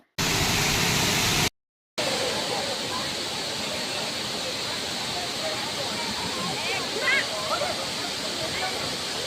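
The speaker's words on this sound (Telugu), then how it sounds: "వాటర్ సౌండ్ అయితే విన్నారు కదా, ఎంత ఫోర్స్గా వస్తుందో" A forceful hidden waterfall in Odisha roars as a loud, steady broadband rush heard nearby, briefly cut off by a moment of silence near the start, with faint voices over the water now and then.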